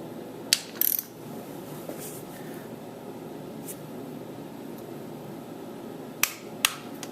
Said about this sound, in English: So every time you hear a click, that's when your torque is set.